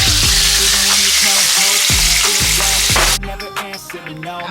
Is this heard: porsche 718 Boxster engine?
no